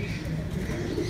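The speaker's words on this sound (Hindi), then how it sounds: "कबूतर फिर रहे हैं, खाना दाना खा रहे हैं" Pigeons coo softly in a loft, a short, steady murmur of low calls with no clear gaps.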